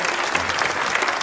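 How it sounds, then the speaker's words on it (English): A studio audience applauds loudly, dense and continuous clapping that fills the whole moment, with no voice rising above it. "How about a hand for Wendy, everybody?"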